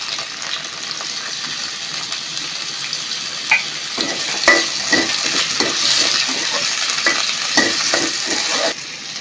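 Spices and tomato frying in a pan for a magur catfish and radish curry, a dense steady sizzle close by with repeated clinks and scrapes of a stirring spoon.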